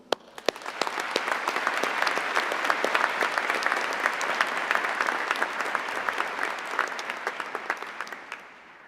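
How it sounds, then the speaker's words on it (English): A large graduation crowd at an Imperial College Business School ceremony claps in a loud, sustained roar. Crisp individual claps pop through the thick, continuous applause, which holds strong throughout. "again with a huge round of applause"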